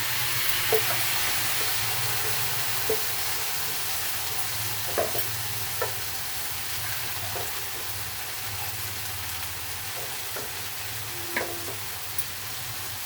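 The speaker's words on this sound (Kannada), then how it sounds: "ಕೊಬ್ಬರಿ ಬೆಳ್ಳುಳ್ಳಿ ಶುಂಠಿ ಹಾಕಿ ಈ ಥರ ರುಬ್ಕೊಂಡು ಇಟ್ಕೊಂಡಿದ್ವಿ ಅದನ್ನು ಇದರಲ್ಲಿ ಹಾಕೊಳ್ಳಿ" Ground coconut, garlic and ginger paste sizzles steadily in a hot pan for a fenugreek seed gravy, a continuous low frying hiss with occasional small clinks and pops of stirring, no voices.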